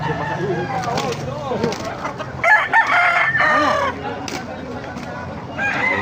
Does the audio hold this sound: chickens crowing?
yes